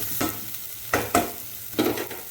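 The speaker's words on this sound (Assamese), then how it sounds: "তাৰপিছত আকৌ আমি লাৰি দিম ভালকৈ।" Onions, green chili, ginger and garlic fry in a pan for paneer butter masala while a spoon stirs them, bringing close scraping strokes in a loose rhythm over a steady sizzle, with no one speaking.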